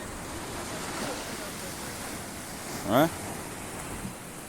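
Sea waves washing onto the shore under wind, a soft steady surf wash with a brief voice heard partway through.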